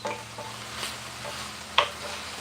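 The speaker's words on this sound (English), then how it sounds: "we're just sauteing up right now" Food sautés in a pan with a steady close sizzle, broken by a few light stirring scrapes and one sharper clatter near the end, no voices.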